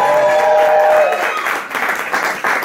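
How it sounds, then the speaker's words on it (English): Loud applause from a crowd at London's Pheasantry, a steady wash of clapping that carries on throughout with a faint voice briefly heard at the start. "Give her a big round of"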